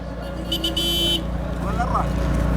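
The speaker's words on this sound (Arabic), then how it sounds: "تخيل رنج ويدق بوري" A Range Rover horn honks in a brief steady tone lasting under a second, heard over a constant rumble of engine and road noise.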